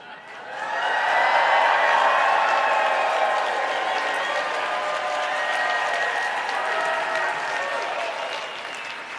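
A conference audience at a business talk about selling on Amazon cheers and applauds on cue, a loud, sustained mix of clapping and whooping voices that starts after a brief pause and holds steady before slowly easing.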